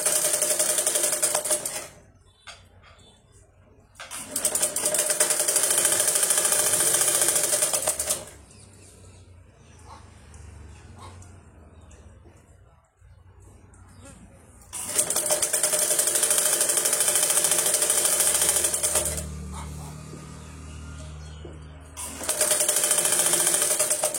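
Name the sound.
sewing machine stitching cloth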